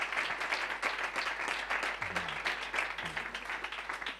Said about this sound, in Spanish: Un fuerte aplauso para Lalo Cruces,